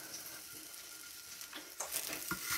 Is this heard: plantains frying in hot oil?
yes